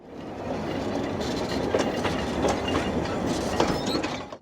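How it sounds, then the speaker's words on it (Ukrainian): A narrow-gauge train manoeuvres along the rails with a steady rumble of wagons and repeated wheel clacks, close and loud throughout, with no voices. "Потяг робить маневри та прямує у зворотному напрямку."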